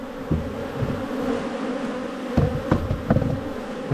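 Bees drone in a continuous, close buzz around an opened top bar hive, with a few sharp knocks and clicks of wood breaking through near the end.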